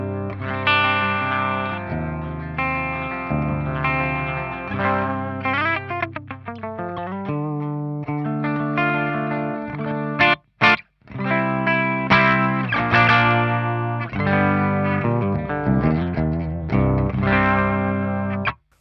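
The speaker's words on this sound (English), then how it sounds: "Let's listen the sound of only my guitar and the Marshall amplifier." Clean electric guitar played straight into a Marshall amplifier with no pedals, ringing chords and picked melodic runs sustaining steadily and fairly loud, with a short pause near the end before the playing resumes, no voices.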